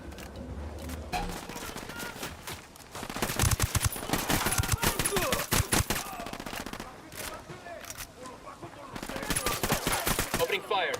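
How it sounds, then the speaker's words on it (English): Rapid automatic gunfire and bursts in the video game Ghost Recon Wildlands, loud and dense, with sharp shots crowding most of the span and a brief lull near the middle, with voices mixed in beneath. "Opening fire."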